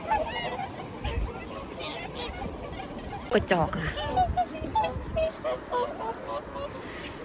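Ducks or geese call outdoors with a few short honks and squawks, mixed with people talking nearby.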